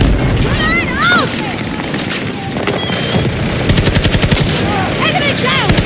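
A Battlefield 2042 battle plays out with an AKS-74U loadout: rapid automatic gunfire and heavy booms of combat, a steady rattling burst near the end, all under shouted voices.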